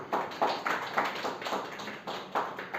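Audience applause at a classroom prize ceremony for a history test, clapping in several rhythmic bursts that swell and fade, fairly close and moderately loud with no talk over it.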